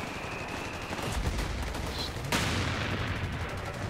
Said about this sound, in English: He's firing at an artillery piece.